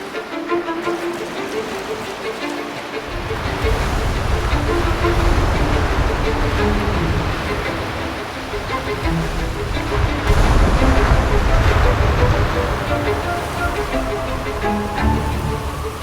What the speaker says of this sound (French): Les vagues éclatent à ses pieds et projettent des milliers de gouttes d'eau